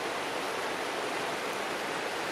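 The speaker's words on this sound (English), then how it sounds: "Fast water." Fast-flowing stream water on the Appalachian Trail near Wayah Bald and the Nantahala Outdoor Center rushes steadily, a loud continuous broadband roar with no pauses.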